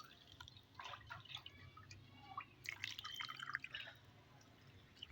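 Water trickles and drips from a funnel into a jar of salted Kalamata olives being prepared for pickling, a light, uneven splashing that swells and fades over several seconds, close and quiet with no talk.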